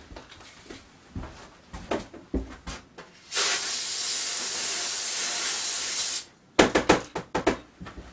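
An aerosol can of brake cleaner sprays in one long, steady hiss of about three seconds, saturating a 6.5 rifle bore brush, with brief rustling and handling clicks before and after.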